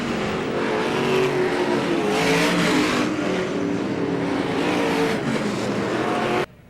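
A dirt-track race car engine roars loud and close, revving hard and steady, with a brief tire squeal, then cuts off abruptly at the end.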